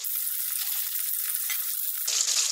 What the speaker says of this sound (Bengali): মিডিয়ামে পুরো মাছটা আমি ভাজবো